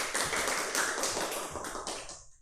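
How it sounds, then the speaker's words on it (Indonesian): Students in a classroom clap their hands together in a dense, steady burst of close applause lasting a couple of seconds before tapering off, with no talking. "Oke, tepuk tangan dulu."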